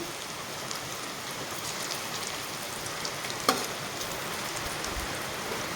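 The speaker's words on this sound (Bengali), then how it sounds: "খুব জোরে বৃষ্টি আসলো আমার ভিডিওতে একটু সাউন্ড হতে পারে" Heavy rain comes down as a constant, even hiss of falling drops with one brief sharp tap midway, fairly quiet and heard without any voices.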